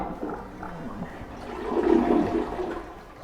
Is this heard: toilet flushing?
yes